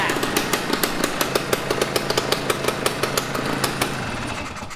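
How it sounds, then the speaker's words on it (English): A 1974 Suzuki TS250 motorcycle engine running steadily nearby, with a crisp, rapid two-stroke pulse and sharp regular ticks over a buzzing drone, close and fairly loud. "That's a crisp sounding little bike."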